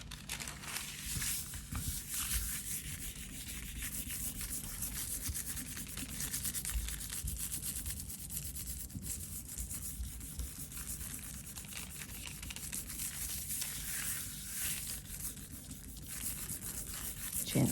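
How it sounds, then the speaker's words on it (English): A sheet of paper is rubbed gently over a fern leaf lying on a gel printing plate. The soft, steady scuffing and brushing goes on without a break, faint and close, with no talking. "Gently rubbing over there."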